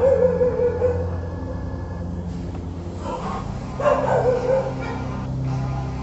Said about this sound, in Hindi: जहाँ वीडियो ऑन करता हूँ तो कुत्ते फिर चालू हो जाते हैं